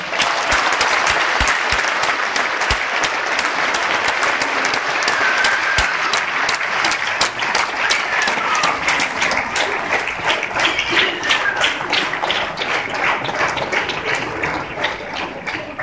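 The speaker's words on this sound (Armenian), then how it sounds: "Մեր ջերմ ծափերը," An audience at a folk song and dance ensemble concert claps warmly, dense sustained applause filling the hall from start to finish, loud and even, with a few sharper individual claps near the start.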